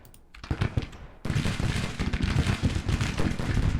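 Cannon fire from Grand Tactician: the Civil War, a dense run of booming and crackling reports that starts sparse, then swells into a steady, loud barrage after a brief pause.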